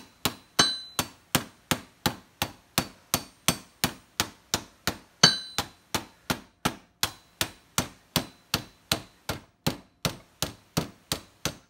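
Steady, rhythmic hammer blows ring out on a metal shoulder armour pauldron being shaped, around thirty evenly spaced sharp clanging strikes, close and loud, with no talking.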